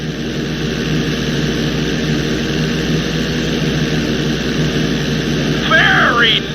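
A small propeller airplane in GTA V drones steadily and loudly through a series of barrel rolls, a continuous engine hum with a voice speaking briefly near the end.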